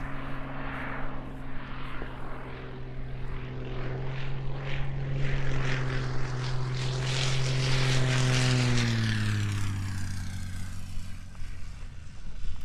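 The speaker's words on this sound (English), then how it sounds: "as we watch Igorus make a tight final circuit, real aerobatic landing this" A propeller-driven aerobatic plane flies a tight final circuit to land at an aerobatics championship, its engine drone swelling as it nears, then dropping steadily in pitch as it passes and slows.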